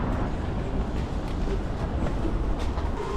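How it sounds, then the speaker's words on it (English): A Kyiv metro train rumbles steadily with a dense, continuous roar, close and loud, with no clear talking. "Let's go take the metro."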